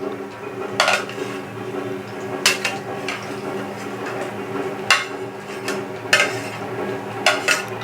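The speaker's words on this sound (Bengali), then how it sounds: "এইবার আমি পটলটা নাড়ছি।" Sliced pointed gourd (potol) frying in a pan and stirred with a metal utensil, giving a steady sizzle broken by sharp clanks of the spoon against the pan about once a second.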